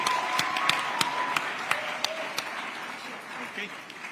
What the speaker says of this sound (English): I want you guys to give him a warm round of applause as he comes up to pitch